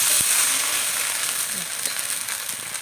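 A loud, steady sizzle and hiss fills the clip as water hits batter in a hot wok while making rice cakes, with a few faint clicks underneath.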